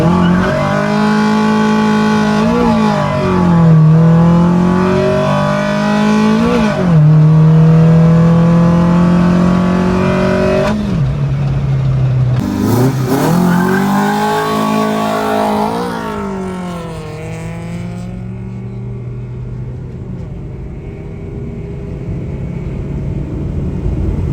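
A turbocharged K24 all-wheel-drive car accelerates hard on a test drive, its engine revving loudly through repeated rising pulls and gear changes, close and dominant, easing into a lower steady drone near the end.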